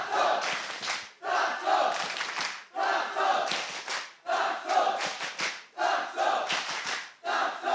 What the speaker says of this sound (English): The crowd digging deep now to get behind Gentlemates.